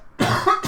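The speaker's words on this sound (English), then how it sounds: "I can't shake this cough" A single short, sharp cough from a streamer during a live poker tournament stream, close to the microphone.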